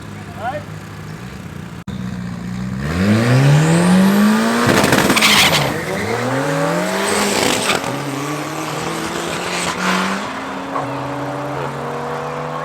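A BMW X-Drive races a 1400 Bushrod car in a drag-racing championship round at Midvaal Raceway. Loud engines climb through the gears in rising and falling sweeps, with tyre squeal and a car roaring past up close.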